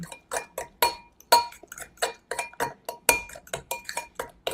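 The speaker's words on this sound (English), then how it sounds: "And then you're just going to mix that egg into this fruit mixture" A fork clinks rapidly against a bowl as egg is mixed into a mashed strawberry and banana fruit mixture, with sharp irregular taps and scrapes in quick succession, close and clear.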